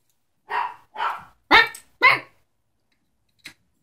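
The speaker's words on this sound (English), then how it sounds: "Bark, bark, Dozer." A dog gives four sharp, loud barks in quick succession close by, then falls quiet before one faint yip.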